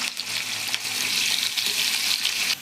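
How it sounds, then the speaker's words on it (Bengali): Potatoes fry in hot oil in a heated wok, giving a steady, close, loud sizzle with faint stirring scrapes and no voices. "তাই জন্য আলুটা দিয়ে দিলাম"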